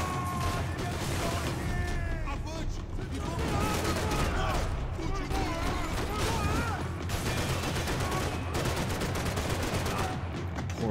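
Rapid blind gunfire in Max Payne 3, dense overlapping shots and mechanical clatter sustained throughout under a busy game soundtrack with voices.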